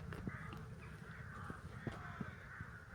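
Crows in a village garden give several sharp caws, spaced irregularly over a steady outdoor background, moderately distant and fairly faint.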